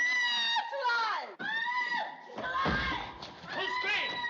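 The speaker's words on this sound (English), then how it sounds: "Who's screaming?" Shrill screams on a cruise ship rise and fall in several long cries, broken by a sudden slam or thud. The screams are close and loud, with other voices joining in as the commotion goes on.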